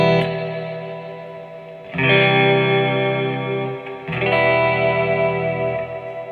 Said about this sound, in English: I'm going to crank up the reverb and put oscillation on as well, and the feedback